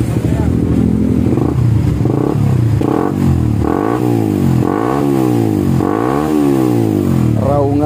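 Suzuki GSX motorcycle with a gutted stock exhaust revved repeatedly up close, loud rising and falling engine blips in a steady series, each surge climbing sharply before dropping back to idle.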